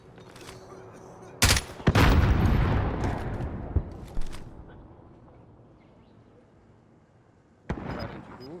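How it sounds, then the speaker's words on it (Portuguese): A grenade explodes in Call of Duty: Warzone with a sharp, loud blast followed by a long rumbling decay, then a few smaller impacts and another sharp hit near the end. Background game noise continues throughout. "Granada lançada!"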